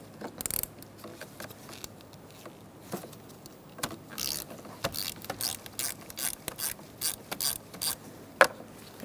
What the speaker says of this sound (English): Now we're going to remove the positive battery terminal using a 10mm long socket.